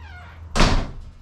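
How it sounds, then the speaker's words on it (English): A single heavy garage door slams shut with a broad, rumbling thud, followed by a short fading rattle. "garage door shut on us"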